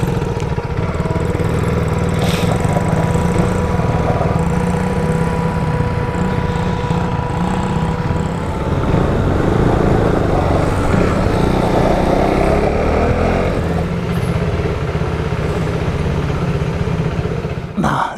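An SSR SR70 fully automatic pit bike ridden through the Arizona desert, its small engine droning loudly and steadily up close with slight rises and falls in pitch, voices talking faintly underneath.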